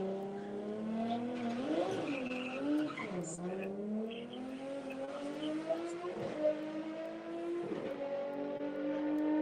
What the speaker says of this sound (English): he's going to build up the boost